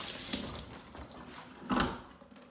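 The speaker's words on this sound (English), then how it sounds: "You pull it down, rinse the sink out," Water sprays from a Pfister pull-down kitchen faucet into the sink, a steady close hiss with two brief louder surges as the spray moves.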